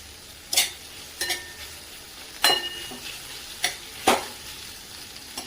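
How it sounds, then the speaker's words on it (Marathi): Onion sautéing in a pan over high heat, with a soft sizzle underneath and several sharp scraping stirs of a spoon at irregular intervals. "तर कांदा पण छान परतला गेलाय, गॅस जोरात करायचा आहे।"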